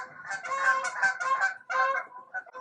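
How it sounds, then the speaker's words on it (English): Several geese flying past honk in a ragged chorus, nasal calls overlapping in quick succession, moderately distant and clear with no talking. "Those are geese flying past, by the way."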